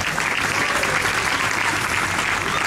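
A hall full of people applauding the regent and vice regent at the opening of a Pentecostal church youth camp in Papua, steady dense clapping that stays loud and even from start to finish.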